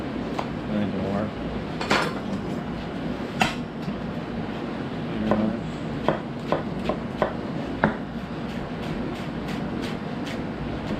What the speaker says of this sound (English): One shallot, chop it up nice and fine